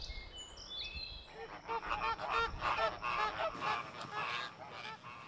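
A flock of greater flamingos calls in goose-like honks, a dense, overlapping chorus of many birds at moderate distance, rising and falling continuously.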